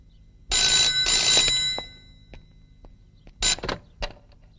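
A telephone bell rings indoors in two clear bursts, a long ring followed by a shorter one after a pause, with faint clicks and creaks between and no talking.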